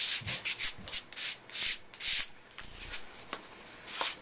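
Coarse rhythmic scrubbing as color-core cardstock is sanded to bring out a spider web design, a series of close, quick rubbing strokes in short bursts, alone with no voices.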